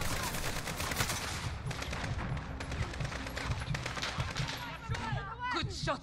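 Rapid bursts of rifle and automatic gunfire crackle through a firefight in the Modern Warfare realism campaign, dense repeated shots with a sharper burst near the end, under a busy game soundscape.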